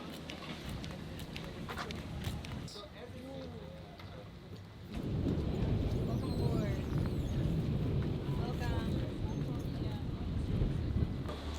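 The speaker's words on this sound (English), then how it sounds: "You can hear the engine start behind me" A tour boat's engine starts up off Poipu on Kauai, a sudden broadband rumble rising around the five-second mark and holding steady and loud, with voices and wind noise over it.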